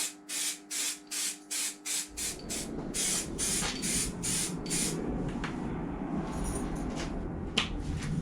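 Halfords grey primer sprayed from an aerosol can onto car spoiler feet: about eight short rhythmic bursts of hiss, then one long continuous spray, close and loud with no talk.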